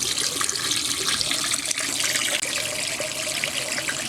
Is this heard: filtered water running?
yes